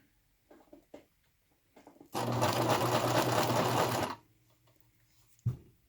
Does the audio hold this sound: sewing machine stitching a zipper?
yes